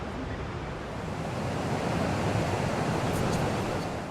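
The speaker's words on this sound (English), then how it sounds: "Way bigger rapids and not so many rocks" Big river rapids on the Nile in Uganda make a broad, steady roar of rushing water and waves that swells slightly and carries on continuously, close and full, with no voices.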